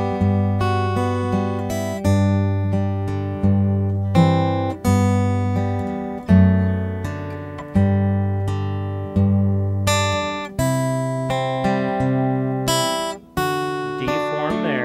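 Guitar picking out the melody of "Joy to the World", single notes and chords ringing in turn with a clear rhythmic pulse, close and solo throughout.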